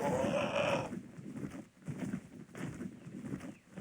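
A goat bleats loudly at the start in the video game ARK, then livestock shuffling and softer animal noises fill the steady background.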